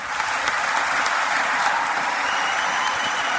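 Sustained, dense applause from a political event audience in Ames, Iowa fills the whole stretch evenly, loud and close with no voices rising above it.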